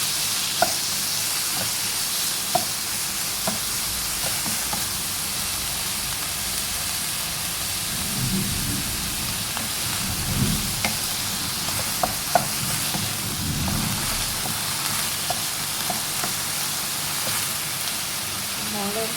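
Mushrooms and minced pork stir-frying with garlic in a pan give a steady sizzle with occasional sharp clinks of a utensil, under a soft background wash that may be rain.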